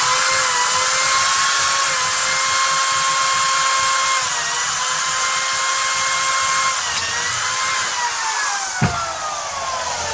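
A power drill bores the top hole through an aluminium carport tube, giving a steady high-pitched whine that holds constant for about ten seconds, with a brief sharp knock near the end.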